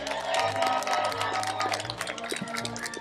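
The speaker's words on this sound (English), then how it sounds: "joining me in applauding the Klamath Community" Families and friends at a Klamath Community College commencement ceremony clap in a soft, distant, continuous patter over a low electrical hum.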